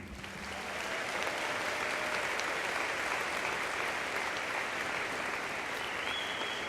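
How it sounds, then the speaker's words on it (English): Sustained audience applause at a college graduation ceremony, honoring a math teacher named faculty of the year; steady, dense clapping from a large crowd filling the whole stretch without pause. "It's not too often you get to hear people give applause to a math teacher"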